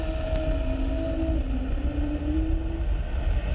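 An Airbus A320 at Dublin Airport gives its growling 'Wookiee' sound, a low, wavering tone that slides downward over a few seconds beneath a steady roar of engine noise.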